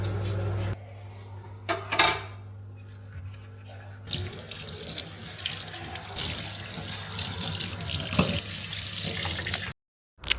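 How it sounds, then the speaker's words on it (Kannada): Dishes are washed at a kitchen sink under a running tap, with steady streaming water, clinks of pots and cutlery, and brief splashes, all close by. The sound cuts out sharply near the end. "ಊಟ ಆದಮೇಲೆ ನಾನು ಸ್ವಲ್ಪ ಪಾತ್ರೆ ಇತ್ತು, ಅದನ್ನು ತೊಳಿತಿದ್ದೆ."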